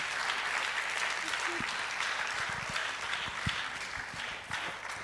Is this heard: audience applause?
yes